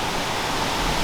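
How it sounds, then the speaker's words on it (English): Soni waterfalls in the Usambara Mountains roar as a dense, steady rush of falling water, close and loud with no other sounds. "The sound of the waterfalls is so relaxing, inviting to meditation."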